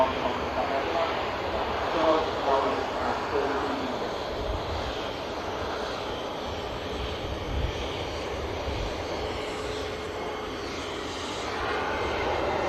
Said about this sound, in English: A330 on the roll out to Bridgetown